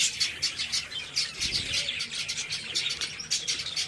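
Pet budgerigars and Java sparrows kept indoors chirp and tweet in a rapid, busy chatter, a steady stream of high twitters with no voices present.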